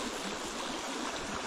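A small Pennsylvania mountain creek flows with a steady, broad rushing babble, fairly soft and unbroken.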